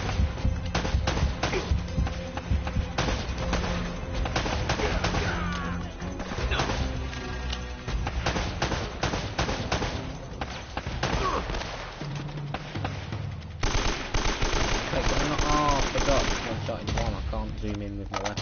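Repeated gunfire cracks in Uncharted: Drake's Fortune on crushing difficulty, with irregular bursts and single shots mixed with impacts, loud and close, while someone talks over parts of it.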